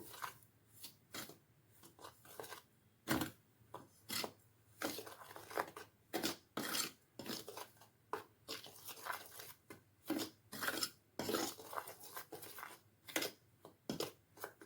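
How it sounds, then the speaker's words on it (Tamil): Wheat flour, white semolina and salt stirred together in a bowl, a steady run of short dry scraping and rubbing strokes, close and clear, with no voices. "கால் கப்பு வெள்ளை ரவை, கொஞ்சம் சால்ட்டு, இதை நல்லா கலந்துக்கலாங்க"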